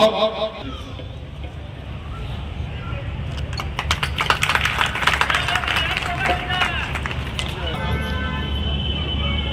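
An audience at a Ramcharitmanas katha gathering in Bhagalpur breaks into loud clapping that swells in the middle and continues, with crowd murmur and voices mixed in throughout.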